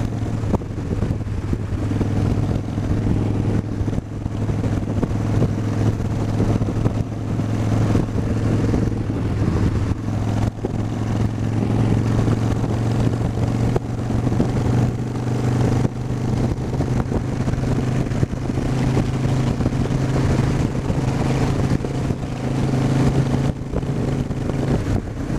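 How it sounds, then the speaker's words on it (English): Steady freeway traffic roars continuously, a dense wash of passing cars and engines with wind buffeting the microphone throughout, no voices. "traffic on the freeway today"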